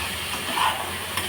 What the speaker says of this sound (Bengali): দিয়ে আরও 1 মিনিট মতন একটু কষে নেবো পটলগুলো আর আলুগুলো একসাথে।